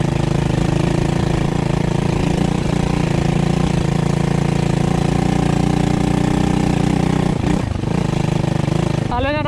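A small Loncin 110/125 enduro motorcycle engine idles with a steady, buzzy putter throughout, fairly loud and close, with a brief disturbance near the end.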